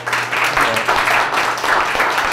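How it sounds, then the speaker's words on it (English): An audience at a hip hop talk and Q&A session applauds, a dense, steady wash of many hands clapping at close range for a couple of seconds. "can we give them a round of applause?"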